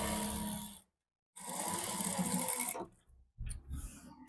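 A sewing machine stitches a chudidar side seam in three short bursts of rapid, close mechanical whirring, separated by brief silent pauses.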